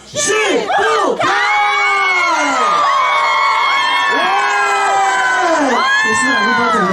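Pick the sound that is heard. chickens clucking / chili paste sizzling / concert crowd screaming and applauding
concert crowd screaming and applauding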